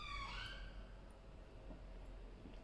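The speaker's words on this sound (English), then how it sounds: "Here's another ambulance." An ambulance siren wails faintly from outside a home in the UK, rising tones sweeping briefly at the start before fading away under a low room hum, with no voices.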